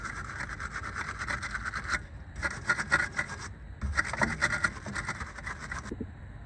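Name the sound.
cleaning steering knuckle surface on 2000 Mercedes E320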